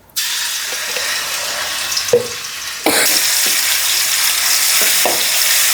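Ginger sizzles and fries in hot oil in a pot, a steady broadband crackle that swells louder midway with a few stirring knocks, and no voices.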